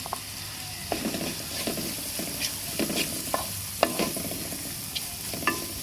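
Thinly sliced onion sautés in a pan with a steady close sizzle, punctuated by repeated scraping knocks of a spoon stirring it, no voices.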